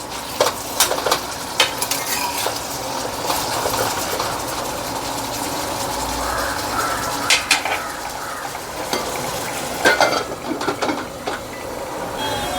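Radish, known as mooli, stir-fried in a pan with spices and leaves: steady sizzling under repeated scraping and clanking of a spatula against metal, with sharper strikes near the start and end.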